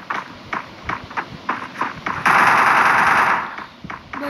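Rapid bursts of MP40 submachine gun fire in Counter-Strike ring out as evenly spaced sharp shots, then a dense sustained burst, then a few more separated shots, with no talk.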